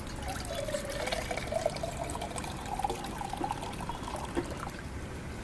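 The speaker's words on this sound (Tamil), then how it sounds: "இங்கே பாருங்கள் கரெக்டாக முக்காப்படி அளவுக்கான தண்ணி நான் ஊற்றப்பேன்" Water pours steadily into a cooking pot for chicken biryani, a continuous splashing trickle at close range that stays even throughout.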